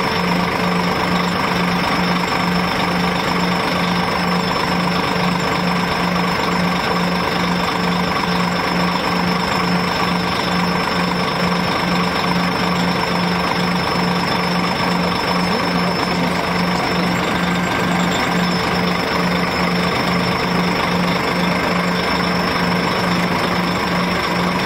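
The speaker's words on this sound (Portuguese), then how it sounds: "Agora o motor, barulho da máquina," A new Itapemirim Tribus bus runs its engine, giving a continuous, even mechanical drone with a steady low hum and a clattering edge. No one speaks over it.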